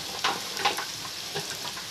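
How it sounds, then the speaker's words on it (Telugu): Onions frying with turmeric in a pan before okra is added, a soft continuous sizzle punctuated by a few quick stirring scrapes, close and fairly quiet. "పసుపు వేసుకొని బాగా వేపుకోవాలి."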